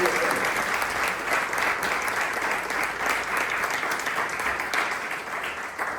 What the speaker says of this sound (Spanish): ¿Por qué no le damos un aplauso a aquel que es poderoso